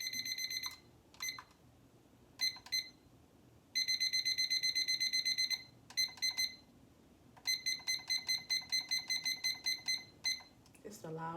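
A kitchen-style timer alarm beeps in rapid high-pitched bursts, first in short clusters and then in a long run of evenly spaced pulses, loud and close over low background noise.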